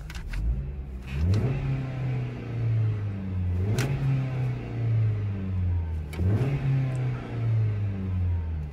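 A 2018 Dodge Journey SE's 2.4-liter engine revs up and down several times, each rise followed by a steady idle-like drone, fairly close and a bit thin-sounding.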